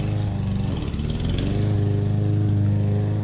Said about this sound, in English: there's Grandma over there mowing the lawn still